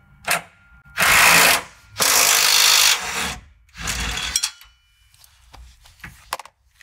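A power tool spinning off the upper shock bolt on a 2019-or-later Ford Ranger during a Bilstein 6112 shock and spring install: three loud, harsh bursts of about a second each, with smaller clicks and clatter between them.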